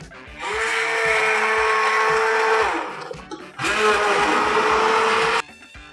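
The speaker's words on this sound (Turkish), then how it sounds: "Ortalama 3 dakika boyunca blenderımı çalıştırdım." A blender pureeing apricots whirs loudly in two long bursts with a brief pause between, its steady motor pitch shifting as the contents thicken.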